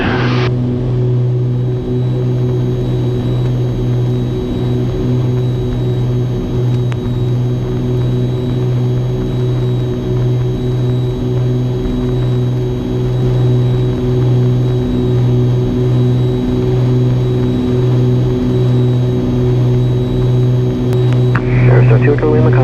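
An Aerostar 700 twin-engine aircraft roars steadily on its takeoff run, a loud continuous engine drone heard from inside the cabin with a faint tonal whine above it.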